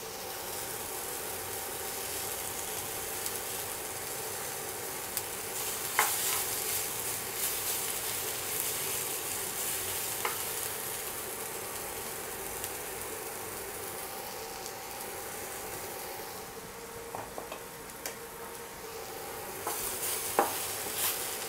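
Salt and chilli powder being stirred into a frying pan while making bachelor-style pappannam; a steady sizzle-like hiss with occasional soft scraping ticks of the spoon, continuous and fairly quiet, no talking.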